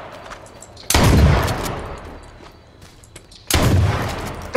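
Two loud bursts of gunfire from the survival shooter H1Z1, the first near 1 second and the second near 3.5 seconds, each with a sharp attack and a long rumbling tail, separated by a quieter stretch.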